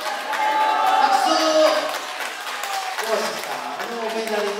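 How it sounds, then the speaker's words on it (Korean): Audience applause at a Korean community celebration event for elderly mothers and fathers, a steady wash of clapping lasting several seconds, with singing or voices mixed in over it. "박수."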